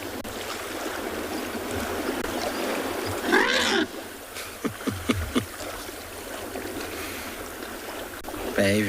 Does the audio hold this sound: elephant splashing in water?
yes